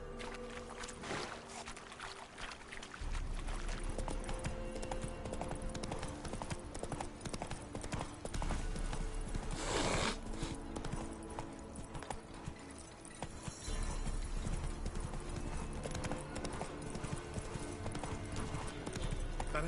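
Horse hooves clip-clop steadily along a road in The Witcher 3, a continuous close rhythmic trot running throughout with a few brief pauses, over game ambience and faint background sounds.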